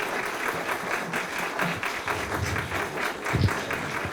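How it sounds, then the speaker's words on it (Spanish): A crowd claps steadily after a debate on markets and the state, with the applause sustained and even and a few heavier thumps standing out. "un gran fuerte aplauso para Juan Pablo y su equipo"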